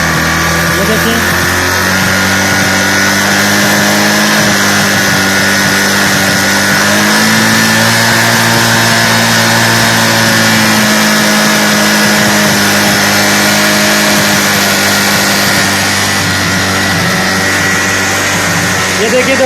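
A motorcycle engine runs close by after its accelerator cable is tightened, holding a loud, steady idle with slight rises in revs, while someone talks over it.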